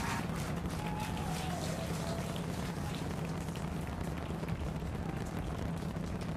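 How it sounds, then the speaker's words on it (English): A SpaceX Starship rocket launch rumbles from a distance as a steady, low, broadband roar that stays even throughout without breaks. "the rumble's just starting to reach us"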